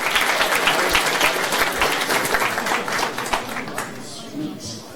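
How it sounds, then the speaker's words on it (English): Meetup audience at a tech event hosted at Samsung claps in a dense burst of applause that gradually tapers off toward the end. "So give them a round of applause."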